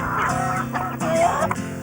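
Hens clucking on a farm, a steady mix of overlapping clucks and chatter from several birds, fairly close and continuous with no talk.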